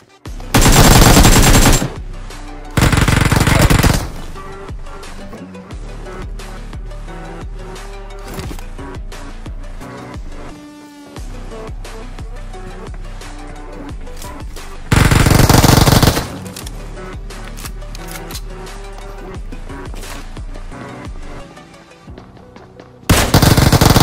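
Loud automatic gunfire from PUBG Mobile comes in several long bursts, with quieter game sounds and background music playing between them.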